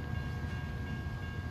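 A passing SCS freight train hauling logs in American Truck Simulator rumbles steadily nearby, a dense low rolling drone of wagons with no voices.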